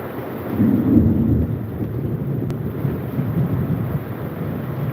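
Heavy torrential rain pours over a farm in Latur, a dense, steady roar with low thunder rumbling beneath it, swelling early and staying loud and continuous without any voices.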